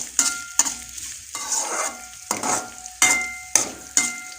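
Onions sautéing in a pan for a Tamil kofta curry, with steady close sizzling and frying broken by repeated scraping stirs of a spatula, about eight strokes in an uneven rhythm, no voices.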